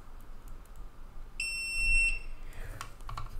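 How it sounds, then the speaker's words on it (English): A single sustained electronic beep from a metal tester touched to rhinestones on jewelry, high and pure-toned, sounds for under a second over quiet background rustling and faint handling noises. "it's beeping because it usually only does that when it touches metal"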